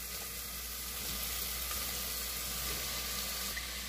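Small chopped onion, minced garlic and diced ham sizzling in a hot pan, a steady soft hiss of frying heard close and alone, fairly quiet throughout.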